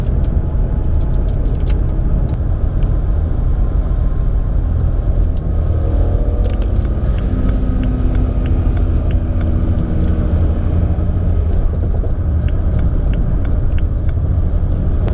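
A BMW 335i E90 with an automatic gearbox drives at partial throttle in sport mode, its engine giving a steady low rumble heard from inside the car over continuous road noise.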